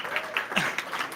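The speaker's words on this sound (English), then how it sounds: "So everyone, warm round of applause for Goldie and Dopamine." Applause from an audience at a Solana Cypherpunk demo day in Berlin for a presenter, light and somewhat sparse, with scattered claps heard at a moderate distance for about a second.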